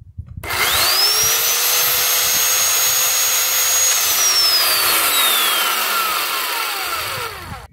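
A Pullen 3.5 horsepower electric chainsaw spins up loud and close with a rising whine, holds a steady high motor drone for several seconds, then winds down as the pitch slowly falls.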